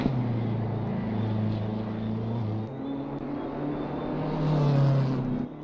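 A BMW M4 GT3 race car in a racing game at the Nurburgring, a loud steady engine drone holding pitch, dipping briefly as it shifts, then rising again before cutting off near the end.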